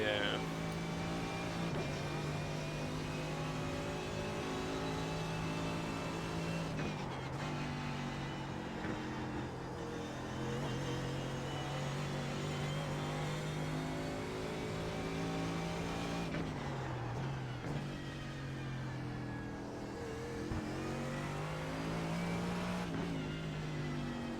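Race cars on a track, with a steady loud engine drone throughout, a pack of faster cars closing in, pitch dips and swells as gears change, and a voice talking over the top.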